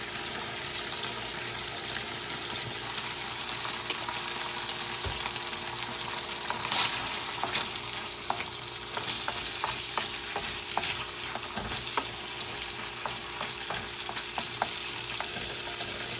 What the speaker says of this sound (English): You're going to get that frying part now.